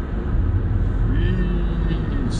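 A car is being driven, heard from inside as a loud, continuous low road-and-engine rumble that stays even from start to finish, with a brief faint tonal whine midway.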